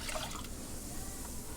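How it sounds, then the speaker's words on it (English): Coke poured from a cup into a saute pan in a home kitchen: a short, steady liquid splash and trickle at moderate volume, with no talking. "Our cup of Coke is going in."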